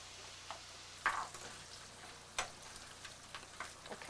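Onions and bacon frying in a pan, a faint steady sizzle with scattered soft pops and a couple of sharper clicks, quiet and nearby with no talking.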